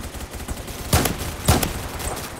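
Gunfire in the Roblox shooter Phantom Forces, two sharp shots about half a second apart that stand out over a steady background of in-game noise.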